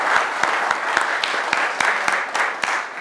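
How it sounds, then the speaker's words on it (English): An audience at a martial arts gym applauds with steady, dense clapping that carries on throughout the short stretch, with a few sharper individual claps standing out. "Give her a round of applause."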